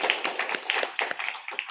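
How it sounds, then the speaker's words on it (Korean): A church congregation claps together during a Sunday worship service, a dense, steady patter of hand claps filling the sanctuary at moderate volume with no voices on top. "예, 우리 다시 한번 힘차게 박수로"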